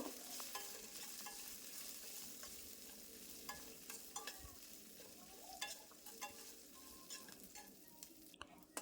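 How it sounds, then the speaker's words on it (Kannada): Garlic and drumstick leaves fry gently in a pan over a low flame, a soft continuous sizzle with scattered crackles and a few stirring scrapes, close and fairly quiet, no voices. "ಇವೆಲ್ಲವನ್ನು ಲೋ ಫ್ಲೇಮಲ್ಲೇ ಫ್ರೈ ಮಾಡಿಕೊಳ್ಬೇಕು"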